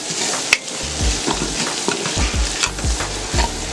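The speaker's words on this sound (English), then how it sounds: "And we're going to sear these off a little bit." Onions, scallions and green peppers sear in an electric pressure cooker on sear mode, a loud steady sizzle broken by repeated low thumps and scrapes of stirring, with no voices.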